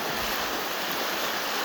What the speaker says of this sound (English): Splash it a little bit here.